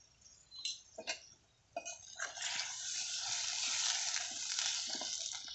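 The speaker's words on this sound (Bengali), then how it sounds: "এবারে পরিমাণ মতো জল দেব।" Water poured into a pan of frying hilsa (ilish) in oil, a broad hissing sizzle rising and holding steady after a few short clatters and bursts, fairly close with no talk.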